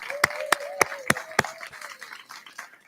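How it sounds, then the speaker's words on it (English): Handclaps for a musician at a Sunday church service: five sharp, evenly spaced claps ring out close, then trail into a few softer scattered ones. "let's give him another round of applause"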